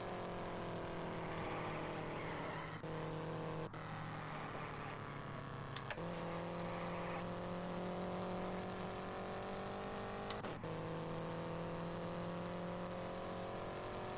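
Race cars circle the Trenton oval in the iRacing simulator, a steady multi-engine drone with rising and falling pitch as cars pass, a few sharp clicks and shifts cutting through, with no talk.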